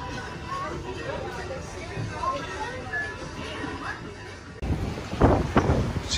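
Steady wind roars and buffets the microphone outdoors on a cruise ship deck at sea off Alaska, wet weather, with a harsher gust-driven burst near the end and low water noise beneath.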